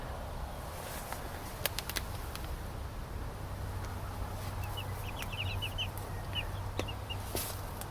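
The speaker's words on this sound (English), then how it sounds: "Hi, little chicks." Baby chicks cheeping softly with occasional clucks, faint high chirps scattered over a steady background hiss, no voices.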